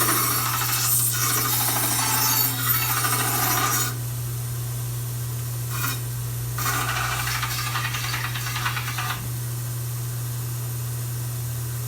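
Abrasive grinding of a chainsaw bar against a sander in loud bursts, stopping and restarting, over a constant low motor hum.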